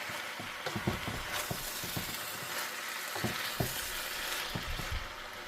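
Bok choy stir-frying in a wok, a steady sizzle broken by scraping and clattering as the greens are lifted and turned, with no talking over it.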